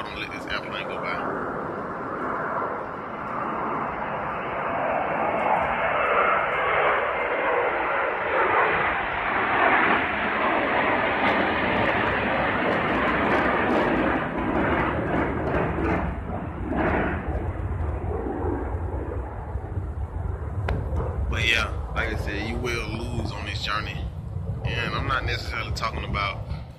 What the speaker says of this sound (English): let this airplane go by